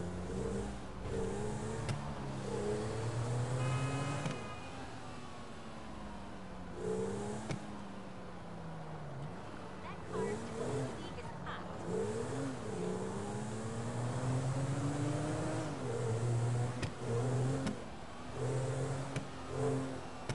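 A car in the video game GTA V drives with a continuous engine drone that rises and falls as it revs and shifts, steady and moderately close throughout.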